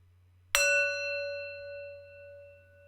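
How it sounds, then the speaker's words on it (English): A single bell struck once, a sharp clang that rings out clearly and then decays slowly into a long sustained hum over a faint low drone. "Let's listen to the sound of the bell."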